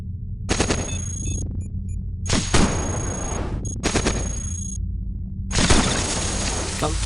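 Rapid bursts of synthetic gunfire from enemy flyers in the robot game CogMind, four loud clattering volleys separated by short gaps, with faint electronic tones between them.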